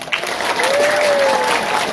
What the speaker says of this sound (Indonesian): Tepuk tangan untuk awewe.